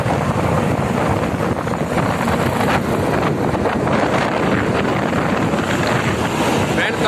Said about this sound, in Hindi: काफी हवा चल रही है